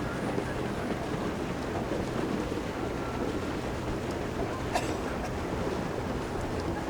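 Steady wind buffets the microphone during a collegiate novice rowing race on choppy water, a constant close rumble and rush throughout with no talking.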